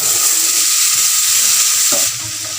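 Boiled black chickpeas fry in a pan with a loud, close, continuous sizzle and hiss, broken near the end by a stirring scrape, after which the frying settles slightly quieter.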